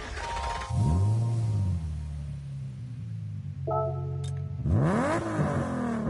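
A hybrid car in Gran Turismo 7 revs twice, rising and falling engine sweeps bracketing a steady idle hum, with a short whirring tone in between.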